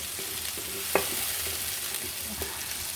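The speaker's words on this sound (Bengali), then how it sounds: "এখন আমরা মাছ ভাজার তেলের মধ্যে পেঁয়াজ বাটা দিলাম" Onion, cumin, garlic and green chilli paste sizzles gently in oil left from frying fish while a spatula stirs it, with soft scrapes and one sharp metallic clink, and no talking.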